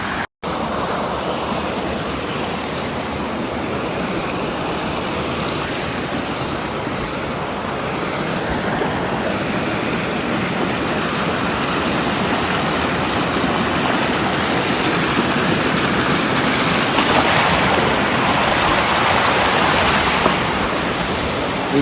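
A mountain stream on a trail in the Néouvielle reserve rushes steadily with broadband water noise, loud and continuous for the whole stretch, with no voices.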